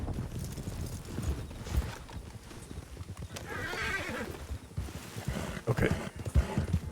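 Horse hooves clip-clop in an uneven walking rhythm in the Red Dead RP game, with a whinny partway through, fairly close and clear with no talking.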